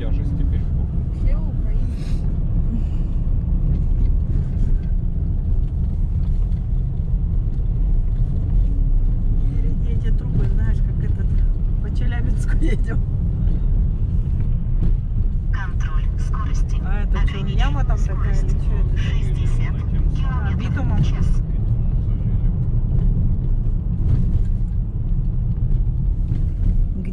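Steady low road rumble inside a moving car, continuous and fairly loud throughout, with people talking over it in Russian.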